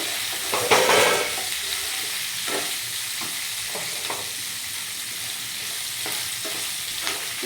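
Capsicum and mushroom for a chilli mushroom dish frying in a pan, with a steady close sizzle and intermittent scraping stirs from a spatula running through it.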